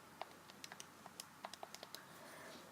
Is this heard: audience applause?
no